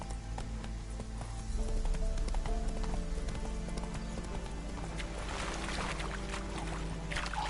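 Roach the horse trots in The Witcher 3, a steady rhythmic clip-clop of hooves at close range over a low ambient and music bed.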